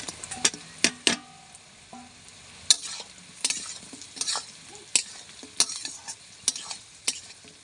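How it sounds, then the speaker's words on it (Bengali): Fried paneer pieces stirred with ginger-garlic paste in a pan for chilli paneer: a soft sizzle under repeated sharp scrapes and clinks of a spatula against the pan, close and fairly loud, with no talk. "এইবার ভেজে রাখা পনিরগুলো এর মধ্যে দিয়ে দিচ্ছি"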